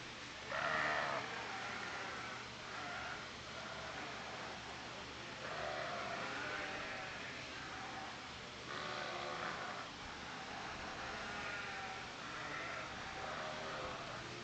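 Dorper sheep at a livestock show bleat repeatedly at moderate distance over a constant crowded-barn hum, with several separate calls spread through the stretch.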